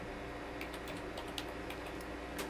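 Keys tapped on a computer keyboard at a desk, a few scattered soft clicks over a steady hiss, close and quiet, no talking.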